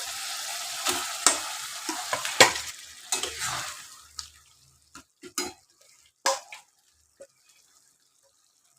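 Chicken pieces frying in a pan for a mango chicken dish, with a sizzling hiss and stirring scrapes at first that fade to scattered clinks of a spoon against the pan, no talking.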